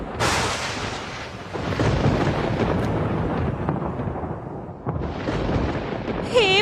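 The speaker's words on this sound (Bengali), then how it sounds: "পাশের তাল গাছগুলোতে একটা জোরে বাজ পড়ে" A loud lightning strike hits palm trees beside a riverside path, a sharp crack followed by long rolling thunder that rumbles for several seconds, with a second burst near the end and a brief tonal sound at the close.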